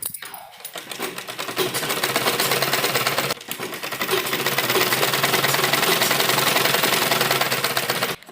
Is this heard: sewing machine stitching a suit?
yes